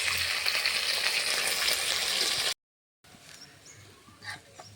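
Food fries in a pan over a wood fire, giving a steady broadband sizzle for a few seconds, then a short silent gap before quieter sizzling returns with faint clinks of stirring.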